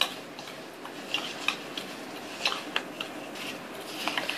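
Homemade Gujarati pickle masala spices being stirred with oil in a bowl, heard as faint, sparse clicks and light scrapes of a spoon against the bowl in a quiet room.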